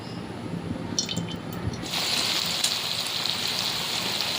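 Potol dhoka pieces (a vegetarian pointed-gourd dish) drop into hot white oil in a kadai and start frying, a soft hiss that jumps to a steady, louder sizzle partway through.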